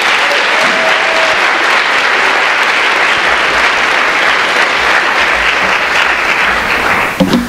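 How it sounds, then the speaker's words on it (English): Sustained, loud applause from a large audience at a university debate on whether God exists, steady dense clapping filling the whole stretch with no voices over it. "So everyone could give another round of applause for Peter Williams."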